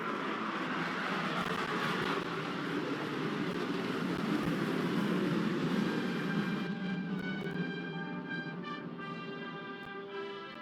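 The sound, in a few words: B-1 Lancer bomber aircraft flyover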